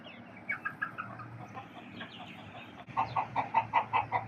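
Several chickens, local desi and tiger breeds kept on a rooftop farm, cluck nearby in short, repeated bursts, growing louder and more rhythmic toward the end, with no talking.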